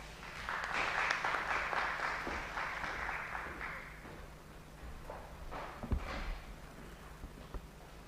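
Applause from an audience at a real estate workshop in Mzuzu, moderate and steady for about four seconds before fading into scattered claps, thumps and room noise.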